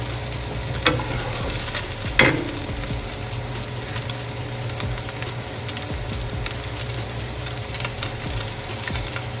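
A chicken salad mix with fresh coriander fries in a pan, giving a steady close sizzle with a couple of knocks from stirring near the start, no voices over it.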